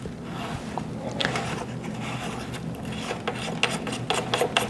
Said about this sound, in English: I'm just loosening the retaining ring by spinning the whole spring until I feel the compression come off the spring.